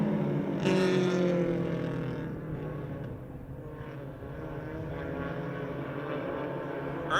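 Race cars roar together at Motordrome Speedway as a green-flag start unfolds, a dense sustained engine drone that swells loud early and holds steady throughout with no voices.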